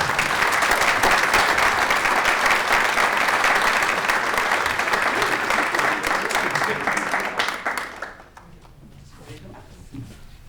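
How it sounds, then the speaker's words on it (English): Audience applause at a city mayor's all-abilities awards ceremony, dense clapping filling about eight seconds before fading out, then a few scattered claps and soft voices in the room. "So once again, a big round of applause to Dr. Krista Perrajito."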